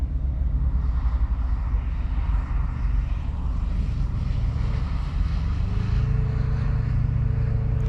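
A Subaru Forester rally car runs along a snowy rally sprint stage, its engine a sustained low rumble that builds near the end as the pitch rises, steady and moderately loud.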